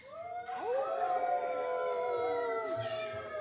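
A church congregation imitates wolf howls together, many voices rising into long, overlapping howls that swell loudly and hold for several seconds, then trail off.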